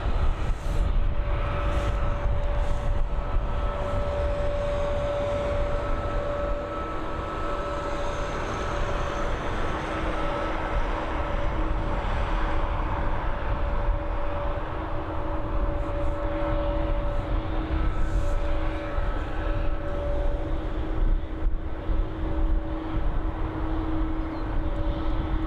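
Aircraft departing Dublin Airport, a steady distant roar of jet engines with a faint whine, continuous and even for the whole stretch under outdoor wind noise, no voices.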